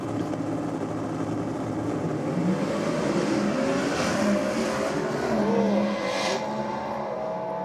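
A Ford Mustang drag car in an Ultra Production Injected Automatic class run roars loudly and continuously down the strip as its tyres begin to spin, a sustained engine howl with faint squealing and no voices.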